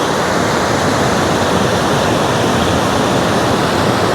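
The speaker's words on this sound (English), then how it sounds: "River that goes down the mountain from the switchbacks and everything." A mountain river rushes below switchbacks in a steady, loud, close roar of broadband water noise that stays unbroken throughout, with no voices.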